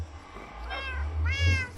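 A pet cat gives two short, close meows in quick succession over a low background hum, the second a little louder than the first.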